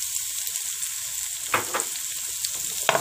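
Onions sizzle and crackle steadily in hot fat in a pan, with a few brief stirring scrapes over the constant frying hiss.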